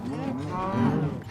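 A herd of cows in the video game Minecraft moos in overlapping, drawn-out calls, close and fairly loud, with no talk over them.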